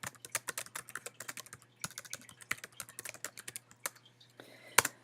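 Keys clatter on a computer keyboard in quick irregular bursts with short pauses between runs of keystrokes, close and fairly quiet, no voices.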